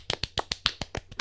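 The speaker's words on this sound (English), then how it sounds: "Let me get some applause." A small group gives quick, scattered applause in honour of an Employee of the Week. About ten sharp, close claps come in an uneven rhythm, and no one talks over them.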